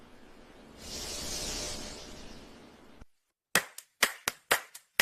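Hands clap close by in a short burst of six sharp claps with uneven gaps, following a stretch of soft breathy noise and a brief silence.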